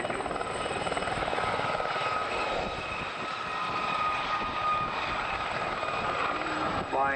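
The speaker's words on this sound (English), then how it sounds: "Distinctive high-pitched whine I referred to a little earlier there is caused by the compressor intake system at the front" A Gazelle helicopter's turbine sends out a steady high-pitched compressor whine over a broad, continuous engine roar. It stays loud and even throughout, with a rising tone near the end.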